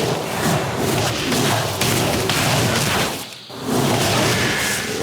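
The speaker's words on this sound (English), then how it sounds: "Arcane Missiles." Arcane Missiles spell cast in World of Warcraft, a continuous dense crackling, whooshing magical barrage with a brief dip partway through, loud and close, with no speech.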